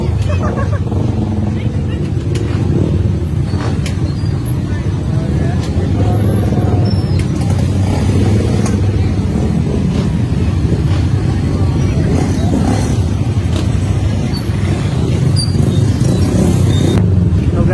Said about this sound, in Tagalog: Sobrang traffic dito sa Pakuan